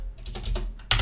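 A computer keyboard is typed on close by while game code is written, giving a few quick bursts of clacking keystrokes with short pauses between them.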